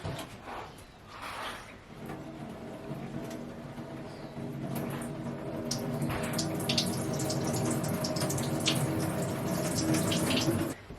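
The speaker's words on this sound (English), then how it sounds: "I'm just going to give these a really thorough water." Potted anthurium plants are thoroughly watered: water pours and splashes steadily into the pots, building slightly in volume over about ten seconds, with faint background noise.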